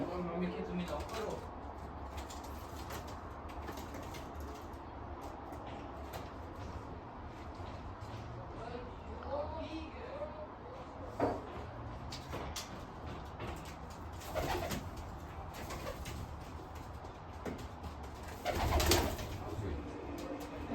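Pet pigeons kept at home coo faintly in the background while people talk.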